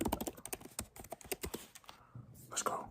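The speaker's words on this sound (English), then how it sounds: "Good typing." Fast clattery typing on a computer keyboard while entering a password, close and dense clicks for about two seconds, then a brief pause before a few more keystrokes.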